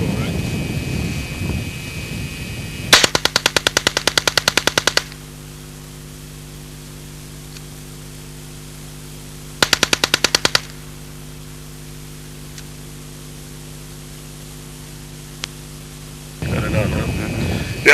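Rapid bursts of automatic fire from a 1977 experimental prototype low-recoil submachine gun shooting corroded vintage Israeli machine gun ammunition, two sharp strings of shots separated by a long quiet stretch with steady hum, with voices talking at the start and end.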